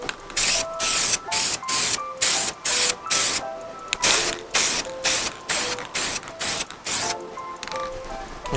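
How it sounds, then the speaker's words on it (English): Clear coat sprayed onto carbon fiber mirror caps from a BMW F30, in a rapid series of short, loud hissing bursts separated by brief pauses, with small clicks between them. "I'm gonna apply the clear coat"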